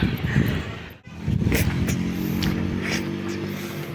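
A Fury 125 motorcycle engine drones close by with a rough, steady rumble, briefly cutting out before revving back up, with wind and background noise.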